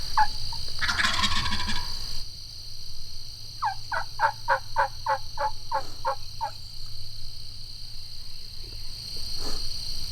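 Osceola wild turkey gobblers gobbling in a large flock, one clear rapid rattling gobble mid-distance followed by a fainter one, over steady insect chirring and a brief earlier call.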